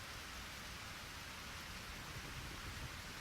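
Heavy pouring rain in the video game Eternal Sonata, a dense, even hiss of downpour that holds steady throughout at low volume with no voices.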